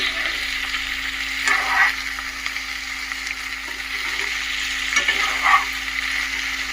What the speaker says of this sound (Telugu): దొండకాయ వేసుకొని ఎలా అయితే కలుపుకోవాలి.